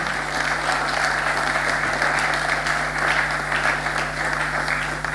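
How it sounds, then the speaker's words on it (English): Steady applause from a conference audience at a closing ceremony, continuous and fairly loud throughout with dense clapping and no pauses, over a low constant hum. "Please clap for him."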